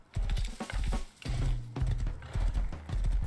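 Horse hooves clop in the survival video game Rust, a quick uneven run of hard thuds with short pauses between bursts, loud and close.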